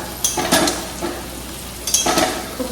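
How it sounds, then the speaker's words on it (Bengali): Meat being stir-fried with spices in a pan, heard as two brief bursts of spatula scraping over a soft, steady sizzle close by, with no voices. "মশলা কষানো হয়ে গিয়েছে মাংসটা দিয়ে দিলাম"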